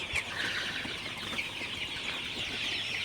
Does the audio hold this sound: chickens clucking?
yes